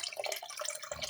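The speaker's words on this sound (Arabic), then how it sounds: "انا هنا معايا الصلصة، هحط عليها حوالي كوباية مية مغلية" About a cup of boiling water poured onto tomato sauce for Egyptian rice kofta, a close, steady splashing and trickling that continues unbroken for the whole short moment.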